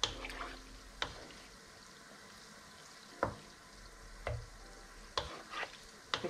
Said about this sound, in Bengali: অনেকক্ষণ পরে তেলটা বেশ গরম এই জন্য এদেরকে বেশ ভালো নাড়তে হবে